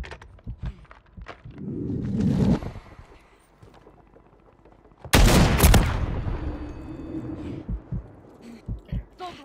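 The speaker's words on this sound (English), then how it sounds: "I'm shooting my gun, and I'm not even getting hit markers" The player's gun fires in the video game Call of Duty, with two loud bursts of shots a few seconds apart and quieter game sounds and thuds between them.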